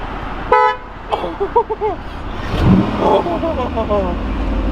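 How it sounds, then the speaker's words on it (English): A toy car horn beeps once clearly, followed by a few short electronic toots and engine revving sounds, with people talking nearby. "Honk the horn. Honk the horn."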